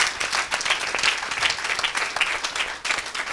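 Church congregation clapping and cheering in praise at an evangelical gathering, a steady dense applause with bright hand claps throughout, fairly loud and close.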